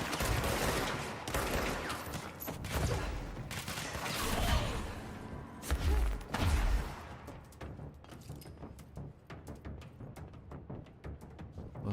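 Rapid bursts of gunfire aimed at enemies in the video game Control, dense and loud for the first several seconds, then thinning into sparser, lighter shots and clicks.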